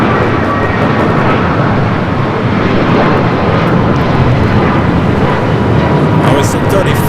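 A 22-year-old airliner, delivered in October 2003, roars loudly and steadily at Los Angeles LAX airport, its engine noise filling the whole stretch with a voice talking over it.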